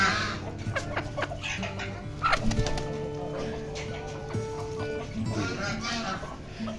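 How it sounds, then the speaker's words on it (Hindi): A hen clucks and squawks as an Aseel rooster chases her in a farmyard, with scattered bird calls and a person talking over the animal sounds. "ये मुर्गी इसके पीछे मुर्गा भाग रहा है"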